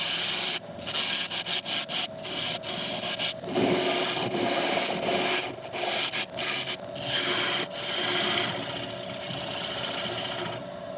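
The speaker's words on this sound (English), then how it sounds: "sanding." Sandpaper rubs against a figured maple bowl spinning on a lathe, a close, continuous scratchy hiss broken by short pauses and contact changes, with the lathe's hum underneath.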